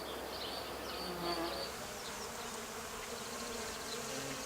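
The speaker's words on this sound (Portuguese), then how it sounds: "Os insetos são os vetores de polinização." Insects buzzing faintly around flowering kohlrabi plants grown for seed, a soft continuous hum with occasional fly-like passes over outdoor background noise.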